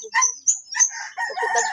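Chickens cluck and squawk in a short, close burst of uneven calls in the late afternoon, with quiet gaps between the sharp notes.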